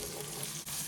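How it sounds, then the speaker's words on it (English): Onions frying in a hot pan for a chicken makhani curry, giving a steady close sizzle and crackle throughout, with one brief dip near the end. "Smell that sizzling onions."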